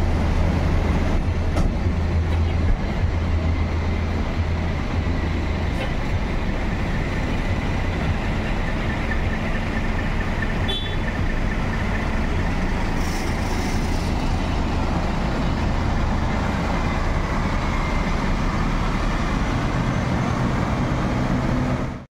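Sembodo NPM V87 bus with new livery departing toward Ranah Minang, a steady low engine rumble and road roar carrying close and unbroken throughout, with no voices.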